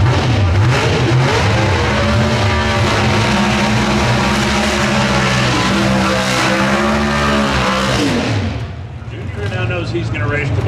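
An NHRA Pro Stock drag car at the Winternationals revs hard and accelerates for about eight seconds, a loud roaring engine with climbing pitch that cuts off abruptly near the end.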